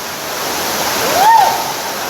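Somerset Falls waterfall, a steady, loud rush of falling water that fills the scene without pause, with a brief raised voice rising over it partway through.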